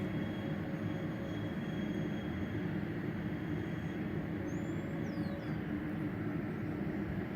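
A Dynam Turbojet 550 model Cessna Citation II jet passing overhead, a continuous, even turbine roar heard at a distance and held steady throughout, with faint high whistles above it.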